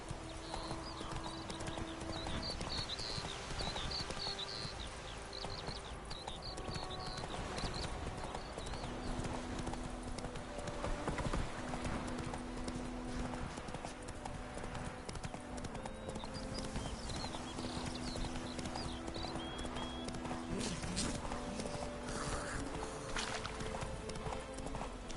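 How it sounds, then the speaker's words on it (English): Horse hooves gallop in a steady, rapid clip-clop rhythm across a video game soundscape, close and continuous over music and ambient effects, with a brief whinny possible. "Run, Roach"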